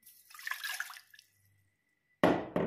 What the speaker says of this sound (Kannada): ಇದಕ್ಕೆ ಒಂದು ಗ್ಲಾಸ್ ನೀರು ಹಾಕಿ